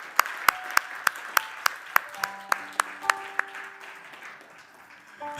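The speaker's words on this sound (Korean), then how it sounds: "하나님께 영광의 박수 올려드리겠습니다" Hands clap in an even, steady rhythm inside a church during a Sunday service, with sustained keyboard or organ notes underneath as the clapping fades.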